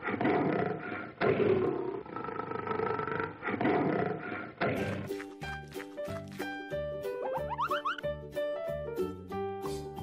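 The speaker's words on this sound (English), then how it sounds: "Lioness." A lioness gives several deep, rumbling roars in close succession over about five seconds, followed by bright plucked music.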